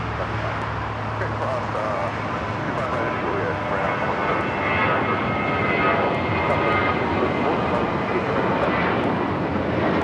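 A Spirit Airlines A321 jet rolling for takeoff on the south side at LAX, a steady broad engine roar that holds loud and even throughout, swelling slightly toward the middle.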